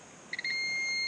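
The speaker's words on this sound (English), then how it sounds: "That beeping means we have continuity." A multimeter set to continuity, testing ignition wiring on a 1986 Pontiac Fiero GT, gives a couple of short chirps and then a steady high beep that holds, close and clear.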